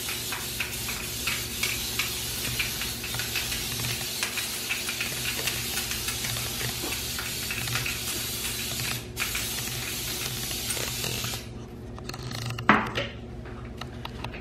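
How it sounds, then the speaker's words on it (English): Pam cooking spray hissing into a cake pan for a pound cake, a long continuous close spray with slight rattling pulses that stops near the end, followed by a brief clunk. "I'm using my Pam cake spray. And I'm gonna spray it to make sure I get full coverage."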